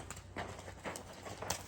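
Horse hooves clip-clop at a steady walking rhythm, faint and somewhat distant, with a low steady hum underneath and no talk.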